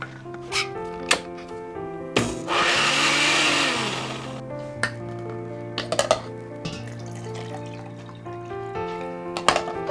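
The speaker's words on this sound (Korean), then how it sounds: "그래서 오늘 그냥 믹스기를 이용하겠습니다." A blender whirs in a short, harsh grinding burst lasting a couple of seconds, grinding boiled red beans with water, with soft music playing throughout.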